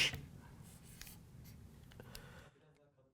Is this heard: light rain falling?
no